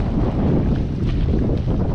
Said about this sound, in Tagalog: Napakalakas ang hangin.